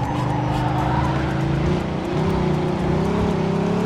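A car speeds along in the video game Mafia 2, its engine holding a loud, steady, close roar with slight pitch shifts and a hint of tire noise, no voices.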